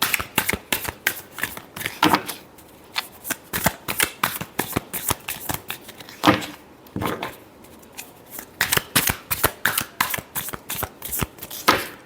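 A deck of tarot cards is shuffled by hand in repeated quick riffles and snaps, arriving in irregular bursts with short pauses between them, close and fairly loud, and no one speaks.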